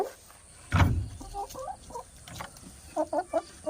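Two chickens released from their coop in the morning at a rural home: a dull knock, then a rapid run of short clucks near the end, fairly close and quiet, with no talking.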